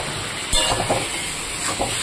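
Cabbage frying in a pan with salt and turmeric gives off a steady hiss and sizzle, with a sharp burst of spitting about halfway through and softer flare-ups afterward.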